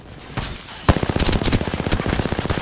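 Rapid automatic gunfire from a heavily recoiling weapon in Apex Legends, a loud close burst of evenly spaced shots rattling for about two seconds after a brief lead-in.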